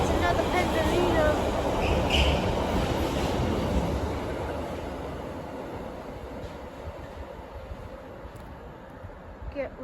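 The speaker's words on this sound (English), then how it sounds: "Oh, it's a class 710." London Overground Class 710 electric train passing through Harrow and Wealdstone station at night, a loud, steady rumble and rail roar that fades slowly over several seconds with faint clicks near the end.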